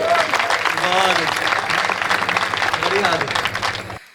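Loud, sustained applause from a live audience at a Hindi comedy poetry show, dense clapping with some voices mixed in, cutting off abruptly at the end.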